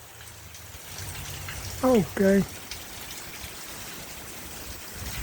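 Cold-front rain falling and dripping off a house roof, a steady soft hiss of rainfall with trickling water, while a voice speaks briefly in the middle.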